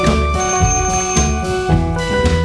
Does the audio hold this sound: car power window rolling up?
no